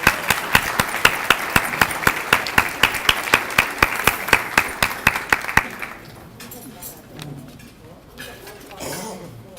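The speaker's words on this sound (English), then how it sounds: "if we could have our administration, faculty, and staff of P&HCC stand for a round of applause" An audience at a college distinguished alumni ceremony gives a round of applause for administration, faculty and staff, a loud burst of rhythmic clapping lasting several seconds before it fades into quieter room murmur.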